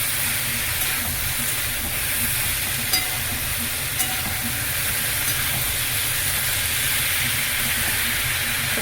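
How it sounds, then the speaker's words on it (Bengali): Tomatoes frying in a pan for a vegetable dish, a loud continuous hissing sizzle with a low rumble beneath and a couple of faint clicks of stirring, no talk. "টমেটোটা দিয়ে দিচ্ছি। ভালো করে একটু নেড়ে নেব।"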